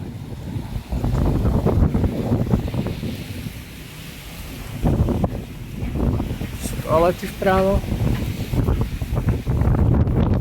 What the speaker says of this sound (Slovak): Celkom nám fúka